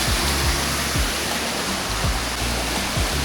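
A jungle waterfall near Taiping roars in a dense, steady wash of rushing water, loud and close, with no voices over it.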